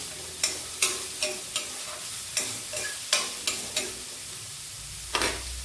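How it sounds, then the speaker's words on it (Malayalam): Chopped winged beans being stir-fried in a pan, with a spatula striking and scraping the pan about a dozen times in an uneven rhythm over a low sizzle, close and clear, with no talking. "ഈ അരിഞ്ഞ് വെച്ചേക്കുന്ന പയർ ഇടാം"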